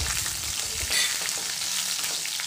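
Dried red chillies, green chillies, curry leaves and mustard seeds fry in hot oil for a curd rice tempering, giving a steady close sizzle with crackles and a brief stirring scrape.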